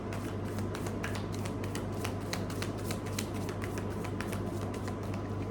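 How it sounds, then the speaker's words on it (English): A deck of tarot cards is shuffled repeatedly by hand, a quick continuous run of crisp riffling snaps and taps, close and steady throughout with no talking. "So let's begin shuffling."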